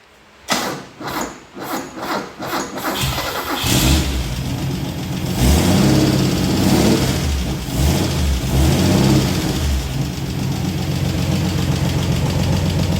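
A Chrysler Valiant AP6 slant six engine cranks in short bursts, catches and starts, then revs and roars loudly at close range with a rough, rumbling idle between throttle blips.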